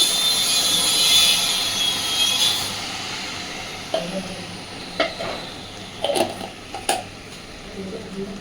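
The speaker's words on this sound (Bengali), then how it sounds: "খুব ভালোভাবে এবার সব কিছুকে মিশিয়ে দেব" An egg and soybean curry sizzles in a pan; the frying fades, then a spoon scrapes and knocks against the pan in four or five distinct strokes during the stirring.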